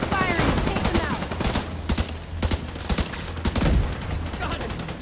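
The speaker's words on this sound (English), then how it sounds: "Keep firing and take them out!" Rapid bursts of gunfire and automatic weapon fire in The Division 2 video game, dense and continuous across the clip, with shouted voices mixed in among the shots.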